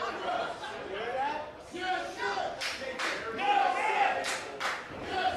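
At an independent wrestling match between two women, the crowd chatters and shouts in loud bursts, with heavy thuds and claps mixed in, and a commentator's voice runs under the noise.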